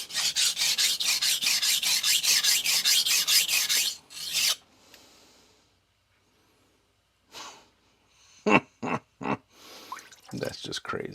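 A knife is sharpened on a vitrified diamond whetstone, giving a rapid, rhythmic series of close, loud rasping strokes that stop abruptly, followed by quiet and a few short scrapes and handling noises.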